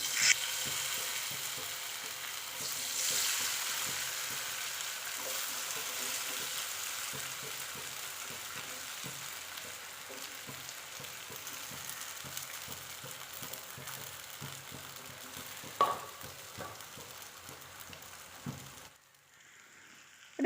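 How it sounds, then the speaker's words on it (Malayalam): Papaya pieces frying in oil in a pan make a soft, steady hiss that swells early on, carries a few faint taps of a utensil, and cuts out abruptly near the end. "അതിന് ശേഷം നമ്മൾക്ക് ഈ പാനിൽ വെച്ചിട്ട് തന്നെ നമ്മൾക്ക് നമ്മൾ പപ്പായ ഫ്രൈ ചെയ്തെടുക്കാം"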